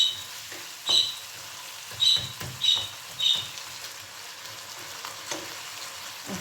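Chicken pieces fry in a pan with green beans, giving a few sharp sizzling bursts and stirring scrapes at an irregular pace over a quiet background.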